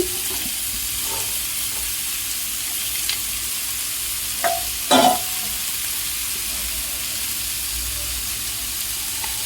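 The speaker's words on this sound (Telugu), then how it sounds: "మునక్కాయ ముక్కలు కాస్త వేగుతూ ఉన్నాయి కదా, ఇప్పుడు క్యాప్సికమ్ ముక్కలు వేస్తున్నాను చూడండి" Drumstick and capsicum pieces fry in a pan with a constant close sizzle, broken near the middle by a couple of short clatters as more pieces drop in.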